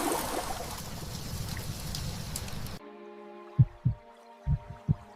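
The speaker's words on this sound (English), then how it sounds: "The possums huddle together, feeling the elephant's steady heartbeat." A steady cartoon heartbeat effect for an elephant follows a wash of rushing flood rain and cuts in abruptly: four soft, low double thumps in an even rhythm, close and alone.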